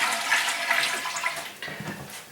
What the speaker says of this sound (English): we're just gonna flush all the water out.